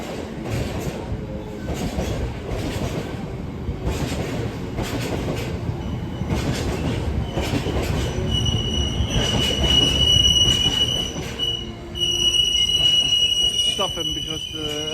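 An LNER passenger train pulls away from Carlisle station. The rumble and rolling wheel noise hold steady throughout, with sustained high wheel squeal rising toward the end and a voice talking faintly under it.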